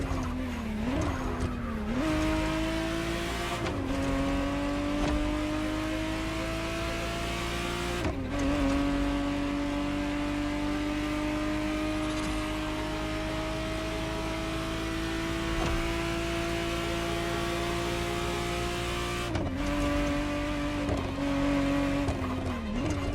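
A Ferrari Testarossa 512 TR in The Crew Motorfest racing game, its engine droning loud and steady through long gear pulls, with brief dips and tire squeals at each shift, no voices.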